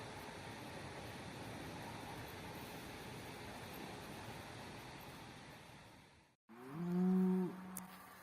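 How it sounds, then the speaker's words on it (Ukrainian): Faint rural ambience with a low background hum where cows graze, then a single close cow moo near the end. "пасуться корови"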